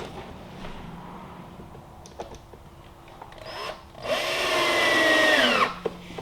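A power drill drives in oak stiffeners on a warped sheet of plywood in a workshop, with quiet handling noises at first and then a loud whining burst of about two seconds near the end.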